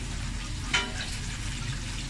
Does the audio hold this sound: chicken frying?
yes